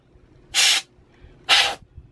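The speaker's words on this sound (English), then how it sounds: "I'm just spraying to the left" A can of compressed air fires two short, sharp hissing spurts into a sewing machine to clear out lint, about a second apart, close and loud against a quiet room.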